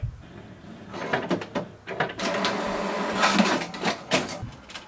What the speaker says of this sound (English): So you can see the printer has printed a page.